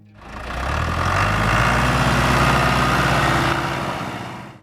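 A John Deere 2020 utility tractor engine running, a loud, steady low rumble that swells up and holds before easing off at the end.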